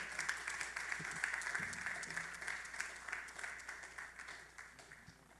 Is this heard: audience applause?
yes